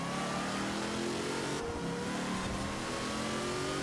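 A twin-turbo Mitsubishi Starion in Forza Horizon 4 accelerates hard, its engine note loud, steady and continuous as the pitch climbs through the gears, with no voices over it.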